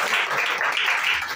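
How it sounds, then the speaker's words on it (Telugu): An audience at a church gathering claps in a steady, dense burst of applause that fills the room and runs close and continuous, with no voices over it. "వీళ్ళిద్దరికి చప్పట్లు కొట్టండి"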